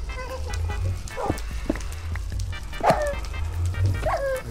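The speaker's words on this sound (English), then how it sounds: "There's so many dogs here." Dogs in a video game give repeated short barks and yips at mid distance, rising from steady low game background noise, with a couple of louder bursts spaced a second or so apart.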